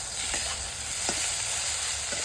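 Soybean chunks fry in hot oil with a steady, close broadband sizzle and a few sharp crackles and stirring clicks, no talking.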